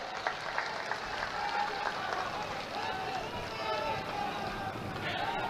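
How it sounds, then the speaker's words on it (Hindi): Crowd at an outdoor political rally in Darbhanga clapping and cheering in a sustained, dense wash of applause from many hands, steady throughout with no break. "दोनों हाथ उठाकर ताली बजा दीजिए तो मैं मान लूं"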